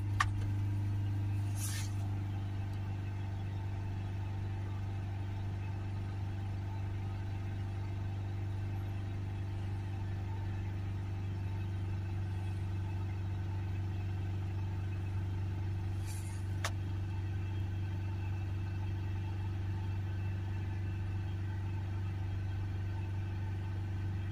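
A car engine holds a steady, constant drone at 3000 rpm during a diesel particulate filter forced regeneration, unchanging the whole time, with a couple of faint clicks.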